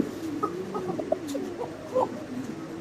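Pair of male racer pigeons calling at a pigeon farm, a series of short coos and throaty burbles close by over a low background hum.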